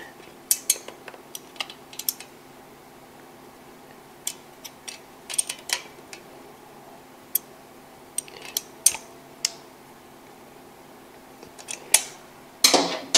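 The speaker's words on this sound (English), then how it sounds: "tighten down the lock nut, making sure that it does not move as I tighten it" A lock nut being tightened during a valve adjustment on a 2019 Kawasaki KLX110 motorcycle, with sharp small metallic clicks and ticks from tools, scattered and close, ending in a brief louder scrape, over quiet background.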